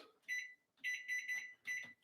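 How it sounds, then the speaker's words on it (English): A microwave timer set while cooking cowboy quesadillas beeps in three short bursts, the later ones made of rapid repeated high electronic tones, quiet and heard alone without talking. "I put the timer on the microwave because the microwave keeps going off."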